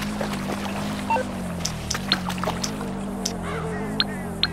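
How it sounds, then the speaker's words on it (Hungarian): A boat is pushed through water in Grand Theft Auto, with a steady low engine-like drone, faint sloshing water, and occasional small knocks and clicks, close and continuous. "És lehet mozgatni a csónakot."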